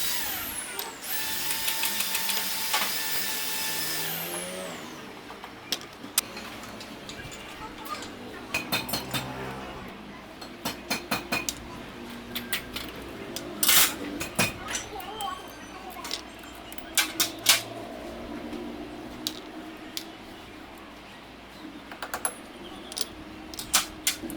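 Metal tools clink and ratchet against a motorbike engine as its cylinder head is opened for a rebuild, with sharp scattered taps and clicks up close over a steady mechanical hum, plus a brief harsh hiss at the start.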